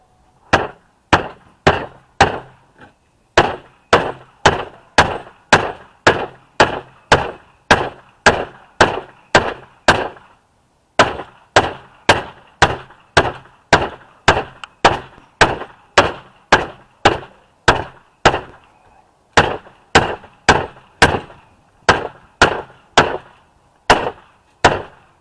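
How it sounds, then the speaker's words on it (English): Steady hammer blows driving a metal mending plate into wood close by, dozens of sharp knocks in quick regular runs with a few short pauses, no talking. "hammer this mending plate on this side."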